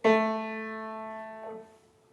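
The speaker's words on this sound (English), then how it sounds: "I play that on the piano, it sounds like this." A single piano note, A5, struck firmly, ringing clearly with rich overtones and decaying over about two seconds, then damped.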